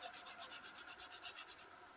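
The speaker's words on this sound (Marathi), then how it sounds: "आणि हे जायफळ थोडंसं किसायचंय." A whole nutmeg is grated for rava steamed modak, giving a quiet, rhythmic rasping of about a dozen quick strokes that trails off at the end.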